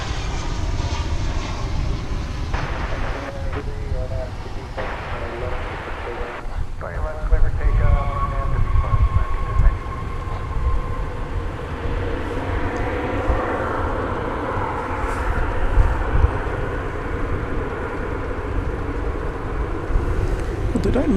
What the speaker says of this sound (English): Here's an arriving flight from Austin,